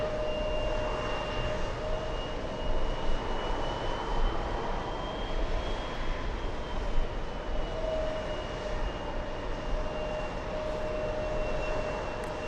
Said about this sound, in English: the world's longest flight, flying above us